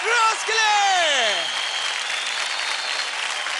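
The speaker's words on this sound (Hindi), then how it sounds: "जोरदार तालियां हो जाए क्रॉकरोड्स" Audience applause on a televised dance competition set, loud and dense, with a voice sweeping over the opening second before the clapping continues alone as a steady crowd wash.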